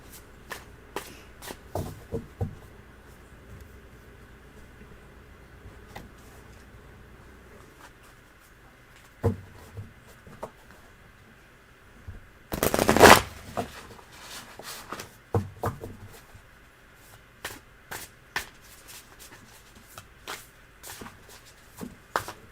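Tarot cards are shuffled by hand in bursts of soft riffling and flicking, with one loud, dense riffle midway and quieter handling noises between.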